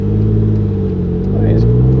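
A Renault Clio V6 hot hatch drives at speed with a loud, steady low engine rumble and road noise, and someone talks over it inside the cabin.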